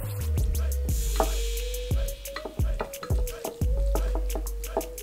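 Spicy KFC fried chicken being stirred and tossed in a container, with repeated sharp clacks and scraping thuds of mixing up close, under a steady background hum.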